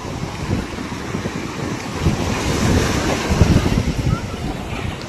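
Evening ocean surf at Srivardhan Beach rolls in as a continuous, loud wash of breaking waves mixed with gusty wind buffeting the microphone, with a big surge swelling near the middle.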